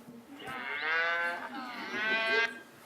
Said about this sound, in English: Each time I touch the cow, we get a different cow.